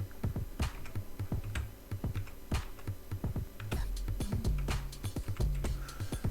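Quick, uneven keystrokes clatter on a computer keyboard as an employee ID and date of birth are entered, close and fairly quiet, with short pauses between bursts and no voice.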